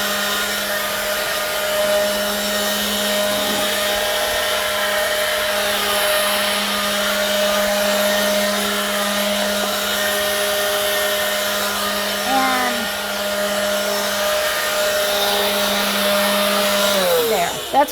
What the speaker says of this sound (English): this Works blower is lightweight enough